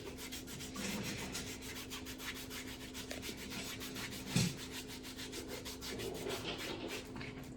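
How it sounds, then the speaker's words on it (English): During a spa pedicure, the top of a foot is scrubbed by hand, making a soft, steady, rhythmic rubbing with quick repeated strokes and one small knock partway through. "you just like push your hand to the foot like this, and scrub it."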